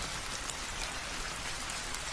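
Steady rain falls in an animated Bengali horror story, a dense, even hiss of drops with no pauses, moderately quiet and without any voices.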